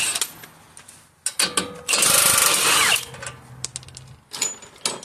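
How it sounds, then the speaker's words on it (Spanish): A 22 mm socket on a power tool removes a nut from the rack and pinion of a 2021 Chevy Silverado Z71, giving several short bursts and then a loud sustained whirring run of about a second, with no talk. "vamos a ocupar un dado medida 22 para quitar esta tuerca"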